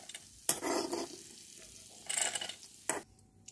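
Dry fruits frying in ghee in a pan, with soft sizzling and three distinct bursts of stirring and scraping against the pan, fairly quiet and close, with no talk.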